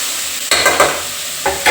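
Pan-frying in oil while making avarekalu soybean pulao, with a steady hiss and bursts of stirring and scraping at about half a second and again near the end, close and loud, with no voices.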